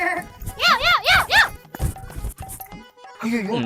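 A puppy yelps in a run of high, rising-and-falling yips, followed by a shorter cry, in a Tamil comedy scene, with people talking around it.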